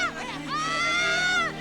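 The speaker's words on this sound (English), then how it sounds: "Lots of cheering, even some screaming." Crowd at a New Year's Eve midnight celebration cheering, with high shrill screams rising over a dense, continuous roar of voices.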